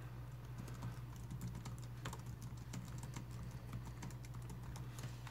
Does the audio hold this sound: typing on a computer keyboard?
yes